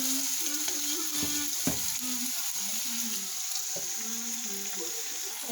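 Onions frying in oil for an onion tart, a steady close sizzle throughout with occasional stirring scrapes and faint murmured speech over it.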